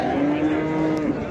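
A young calf moos once at a busy livestock market, a long drawn-out call close by, with market chatter and noise faint in the background.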